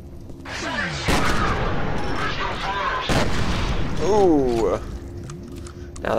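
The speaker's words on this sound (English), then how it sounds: "Now that's how you use the shotgun." Shotgun blasts fired in the first-person shooter F.E.A.R., loud booming bursts punctuating a busy game soundscape, with a rising warbling tone near the end and someone talking over much of it.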